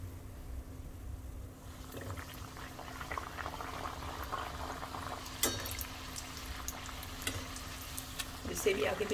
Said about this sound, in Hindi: इसी तरह से दूसरी भी फ्राई कर लेंगे।